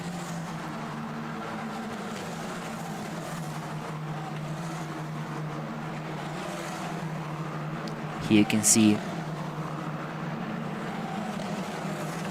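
Formula 4 race cars at the Red Bull Ring run into turn 1 with a steady, droning engine note throughout. A commentator talks over the engines and a brief louder burst comes near the end.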